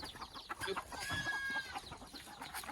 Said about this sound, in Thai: มาให้อาหารไก่ก่อน